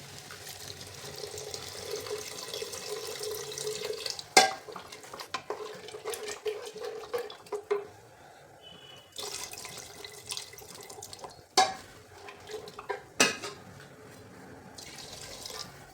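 Water runs and splashes into a pressure cooker of lentils for sambar in bursts, with sharp clinks of metal and utensil knocks between pours; no talking.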